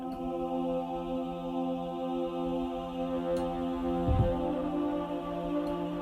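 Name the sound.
choir sample with saturation distortion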